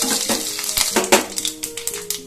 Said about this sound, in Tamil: எல்லாமே நல்லா பொரிஞ்சிருச்சு